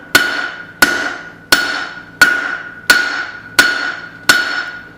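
A hammer strikes hot steel on an anvil horn while tapering a hand-forged claw hammer: seven evenly spaced, loud metallic blows, each ringing briefly before the next.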